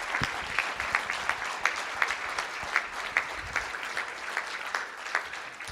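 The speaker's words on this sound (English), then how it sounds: "Let's give these gentlemen a round of applause." An audience at a school district board meeting claps for two All-State band musicians, a fairly soft, even round of applause with distinct individual claps standing out in a regular patter.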